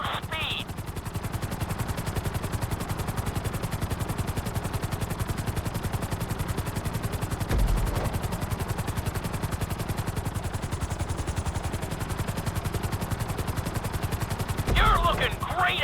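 Helicopter flying in GTA V, a steady rapid rotor chop with constant whine that runs loud and unbroken throughout, with a couple of brief louder thumps.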